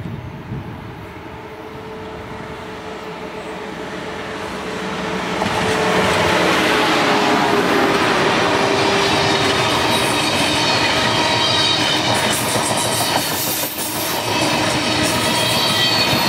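An HHP-8 electric locomotive hauls a passenger train past at Jersey Avenue, its rumble swelling from a distance into a steady, loud roar of wheels and cars rolling by with faint squeal.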